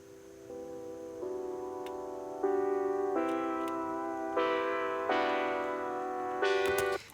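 Sustained synth chords for a 90s-style house breakdown made in Ableton step through a progression, each chord held for about a second, clean and moderately loud, with no voices.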